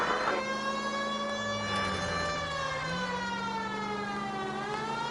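A police siren in the video game L.A. Noire wails steadily, rising and falling in pitch, loud and close with a continuous engine drone underneath and no talk.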